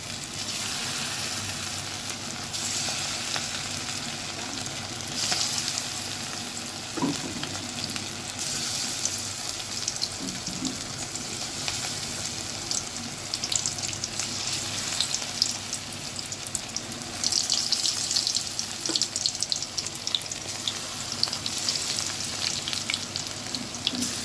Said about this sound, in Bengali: কড়াইতে সাদা তেল দিয়ে ভেজে নিচ্ছি